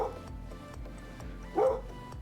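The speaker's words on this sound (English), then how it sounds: "he loved to just stand on the couch and just bark at the door." Small dog barking at a door from a couch, with a couple of yipping barks spread across the moment and one louder, close bark near the end, over a low room hum.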